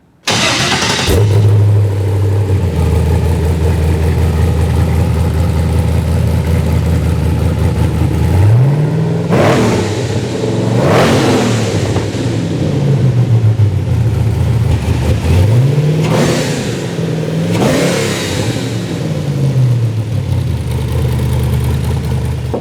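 A loud rock bouncer off-road buggy engine idles with a deep rumble, then revs up twice in long rising and falling surges before settling back to idle.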